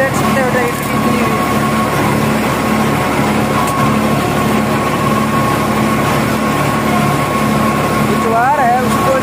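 A New Holland 3510 tractor drones steadily while pulling a 10-foot rotavator through soil, its engine a loud continuous hum with someone talking over it throughout.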